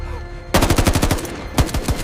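Machine gun covering fire in an AI-generated war scene, rapid loud bursts of automatic shots in quick rhythm, pausing briefly before another burst.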